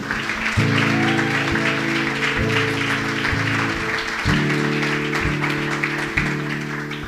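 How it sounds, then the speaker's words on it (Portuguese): Church congregation claps for the Lord during a sermon, steady rhythmic applause rolling on over a sustained organ or keyboard chord progression that shifts every second or so. "Você pode aplaudir ao Senhor, amém?"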